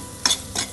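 Chickpea curry with added salt being stirred in a pan, two quick scraping strokes of a spoon against the pan over a faint sizzle.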